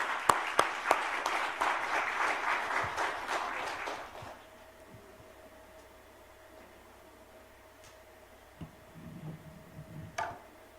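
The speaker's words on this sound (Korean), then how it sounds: "뜨거운 격려의 박수 드립니다" Church congregation applauding a pastor at a New Year's fasting service, a dense burst of clapping for about four seconds that cuts off abruptly, followed by quiet room tone and a few faint knocks.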